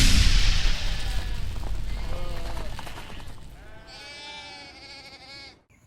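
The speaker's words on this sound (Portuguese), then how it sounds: "aqui eu vim nessa missão de observar esse lote de ovelhas" Sheep bleat in a grazing paddock on a green coconut farm. A loud, rumbling wind or handling noise comes first, and then several bleats rise clearly near the end.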